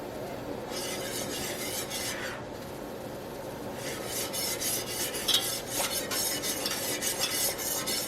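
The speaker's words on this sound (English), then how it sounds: "Okay, it's at that rolling boil." Triple citrus jelly bubbling at a rolling boil in a pot, a continuous close frothy hiss and rasp with faint stirring scrapes, steady and fairly loud, no voices.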